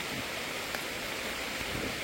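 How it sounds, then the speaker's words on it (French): Steady rain falls in the Amazon jungle region of Ecuador, a dense, even hiss with no distinct drops standing out, continuous and fairly loud throughout. "10 minutes après, il pleut."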